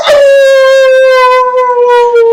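A person imitates a wolf howl with one long, loud, sustained tonal howl that starts sharply and holds steady, slowly sagging in pitch, close and alone with no other sound.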